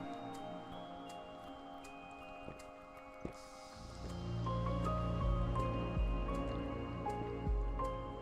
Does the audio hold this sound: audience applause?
no